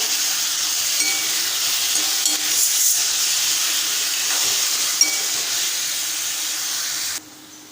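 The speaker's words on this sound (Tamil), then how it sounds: "தக்காளி பழத்தோடு சேர்த்து கலந்து விட்டுப்போம்" Chopped ripe tomatoes stirred into spices frying in a pan for a Tamil side dish, giving a steady, loud sizzle and hiss that runs unbroken, then drops away abruptly near the end.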